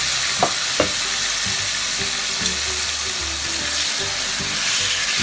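Squid frying in a pan with soy sauce, a loud continuous sizzle with sharp pops of spattering oil and some stirring knocks.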